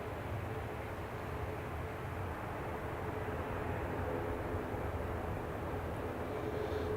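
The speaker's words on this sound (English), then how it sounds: "This one is a Norse 7879 Dreamliner, and it's going to Bridgetown." A Norse Boeing 787-9 Dreamliner airliner at Manchester Airport gives off a steady, fairly distant broadband engine roar that holds level throughout, with no talk.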